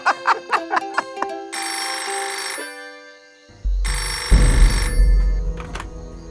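A telephone rings with bright repeated electronic trills, then shifts into louder sustained ringtone bursts with a low rumble underneath; no one speaks.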